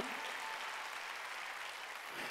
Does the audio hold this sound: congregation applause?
yes